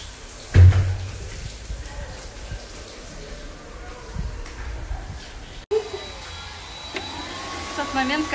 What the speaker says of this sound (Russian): Момент, когда фен занят женщиной другой.